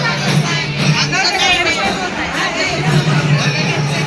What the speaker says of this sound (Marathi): लोकांची गर्दी झालेली आहे